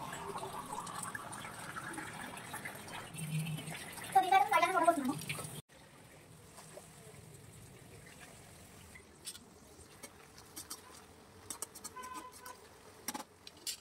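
Water pours and gurgles into a pot of rice for several seconds, then stops, leaving a quieter stretch with light clinks and handling noises.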